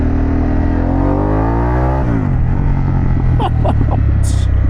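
A Harley-Davidson Pan America motorcycle in sport mode revs hard and climbs in pitch, then drops back as the gear changes, loud and close, with a rider's voice faintly over the engine.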